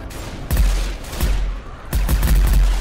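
Gunfire in the zombie shooter Left 4 Dead 2, three loud close bursts of rapid shots separated by brief lulls, each a dense clatter of rounds with booming low punch, no voices.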